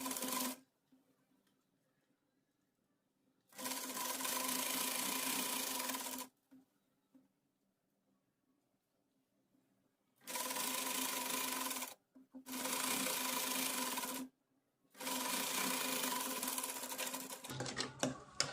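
An electric sewing machine runs in several sustained bursts while stitching fabric for a round umbrella frock, each run a steady rapid whirring, separated by quiet pauses and a brief rustle at the end.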